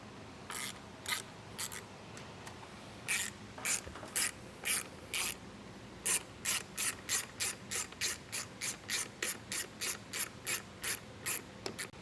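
A 3mm Allen key tightens set screws on an RV slide-out awning mounting plate, giving a run of sharp ratcheting clicks in short bursts, irregular at first then a quick steady series, close and alone.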